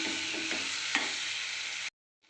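Tempered rice is mixed in a hot pan, giving a dense, even sizzle and a couple of faint scraping stirs before the sound cuts off abruptly near the end.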